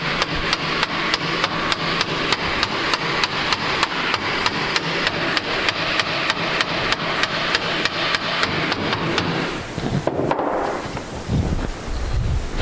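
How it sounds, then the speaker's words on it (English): Rubber hammer striking the end of a new plastic slide being driven onto a snowmobile sled skid, a fast steady run of about thirty loud close taps that stops near the end, leaving some brief scraping and handling noise. "hit the end with a rubber hammer"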